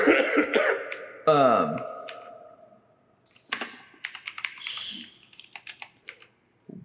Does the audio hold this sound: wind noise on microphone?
no